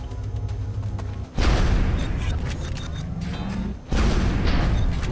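Rapid Fire shots aimed at a Sectopod in XCOM Enemy Within: two loud, booming blasts, each followed by a rumbling, mechanical tail, coming after a lower hum.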